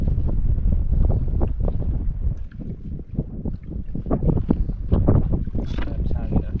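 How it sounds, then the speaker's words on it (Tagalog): Strong wind buffets the microphone in a steady, loud roar, with a voice speaking intermittently over the rushing noise. "Grabe sa hangin ah."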